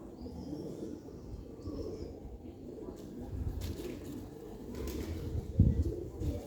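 Rare pigeons coo softly in low, muffled phrases, fairly faint and close, with a brief flutter or bump near the end and quiet background rustling.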